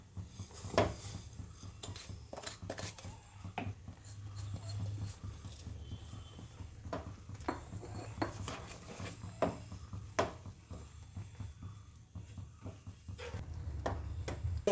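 A spoon scrapes and clinks irregularly against a pan while carrot halwa with added sugar is stirred, giving quiet close-up rubbing and knocking sounds with no talking.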